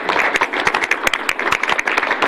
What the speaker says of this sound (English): how about a round of applause for all Julie is doing?